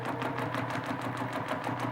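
A sewing machine runs steadily, stitching a meandering quilting pattern, with a fast regular rhythmic whirring and clatter that stays close and even throughout.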